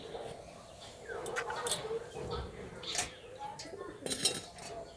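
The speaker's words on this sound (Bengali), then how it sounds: "উঁচু একটা গামলি ওপর থেকে ঢাকা দিয়ে দিচ্ছি।" A tall metal bowl is set over a kadai as a cover, giving light scattered clinks and scrapes of metal on metal, faint and intermittent against a quiet kitchen background.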